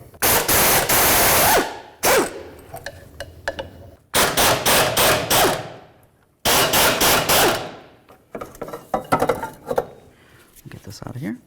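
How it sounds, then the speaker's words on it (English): A 15 mm socket on a swivel works fuel tank mounting bolts off an 08-12 Jeep Liberty: loud metallic clanks and ratcheting bursts in separated groups, close by, with brief pauses between them. "You're gonna use your 15 millimeter."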